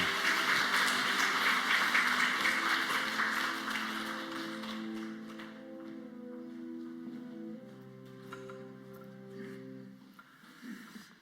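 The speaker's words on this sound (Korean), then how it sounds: "박수로 격려해 주시기 바랍니다." A church congregation at a Sunday service in Bucheon's Jisan Church applauds a scholarship recipient, the clapping filling the first several seconds and fading out under sustained, held musical chords.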